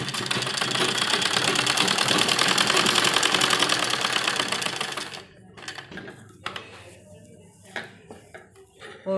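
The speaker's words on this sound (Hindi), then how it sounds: "तो इस तरह फोल्ड करके हमें यहाँ पर किनारे पर सिलाई लगाएंगे।" A sewing machine stitches along the folded fabric edge of a baby dress for a two-to-three-year-old, a steady rapid clattering whir for about five seconds that then stops, leaving quieter fabric handling and scattered knocks.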